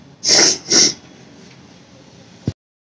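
Two sharp, breathy bursts in quick succession, like sneezes close by, followed by quiet and a brief thump at the end.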